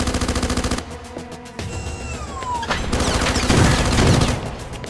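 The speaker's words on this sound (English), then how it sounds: "Open fire." Rapid automatic gunfire from the mutant-shooting video game Xenowerk, loud dense bursts that pause briefly then resume as a continuous rattling fusillade with synthetic sweeps.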